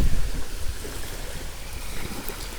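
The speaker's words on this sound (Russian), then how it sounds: "Какие волны." Waves slap and wash against a rowing boat on a fishing trip, a steady close churning of water with low wind rumble and no voices.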